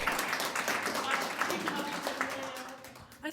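A school audience applauds at the end of a talk on the internet and youth, scattered clapping of moderate loudness that thins out toward the close, with voices speaking over it.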